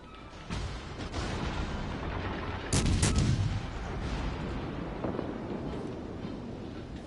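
Warship guns firing in a naval battle game: a rolling rumble of heavy cannon booms that swells to a sharp loud blast near the middle, then a sustained low roar as the salvo fades.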